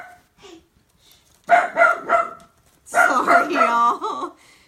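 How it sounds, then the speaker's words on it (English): A dog barks and yips in short bursts from indoors, mixed in with a voice talking nearby, the barking loud and close in two clusters. "My dog thinks somebody's here."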